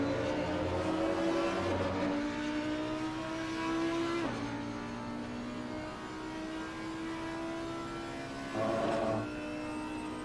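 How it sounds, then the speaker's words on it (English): An Audi race car engine in the racing game Assetto Corsa Competizione at Kyalami roars steadily, with pitch rising through gear changes and sharp shifts around three points, loud and close with no voices. "This Audi sounds really nice."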